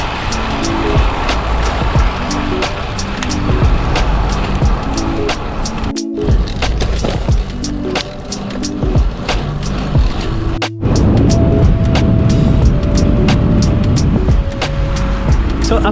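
A bicycle rolls along a road during an early-morning zone 2 ride, with steady tire and wind rumble close to the mic. Repeated clicks and rattles run over the noise and a few brief tonal squeaks sound, with no talking.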